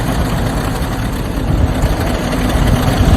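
A car engine runs steadily nearby with no water in its cooling system, a constant low rumble at normal temperature with no talking.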